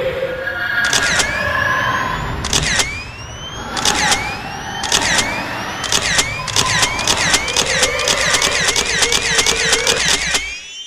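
Rapid camera shutter clicks fire in bursts and quick runs during a horror video game, crisp and close over a steady low ambient hum, with no talking.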